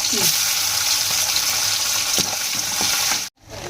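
Peanuts, onion and tomato sizzle and fry in a pan for chitranna, a loud, steady crackle up close with occasional stirring scrapes, cutting off sharply near the end before resuming.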